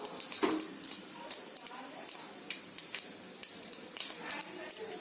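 Peanuts roast in oil over a low flame while cooking mint rice, a soft, continuous sizzle with small crackling pops, quiet and close throughout.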